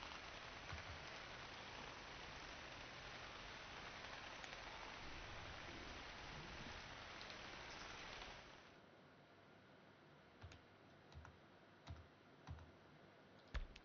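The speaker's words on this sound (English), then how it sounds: "So let's get rid of this rain." Steady rain hiss falls in a farming simulation game for the first eight seconds or so, then stops, leaving a quieter background with a few sharp clicks.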